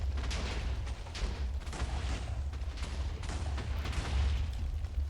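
In a Minecraft mega TNT mod game, blocks of TNT detonate in a fast cluster of booming blasts, one after another, with a constant heavy rumble beneath the repeated bursts.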